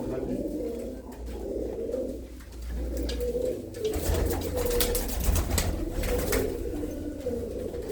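Pigeons kept by a hobbyist coo steadily and close by, a continuous low rolling murmur of several birds overlapping throughout, with faint voices talking in the background.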